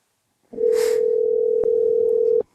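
Steady telephone dial tone sounds alone while a call is being placed, one continuous loud hum held for about two seconds with a brief click partway through, then cut off.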